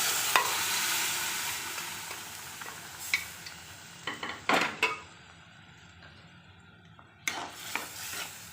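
Paneer and chole (ghugni) sizzle in a pan as they are stirred; a close, fairly loud frying hiss fades and returns with sharp scrapes and clinks of a spoon against the pan, and no one speaks.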